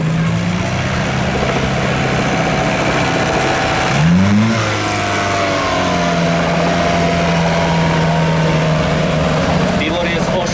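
A tractor engine drones and then revs at a tractor competition in Papradno, its pitch climbing sharply partway through before settling back to a steady throb. Voices carry faintly in the background.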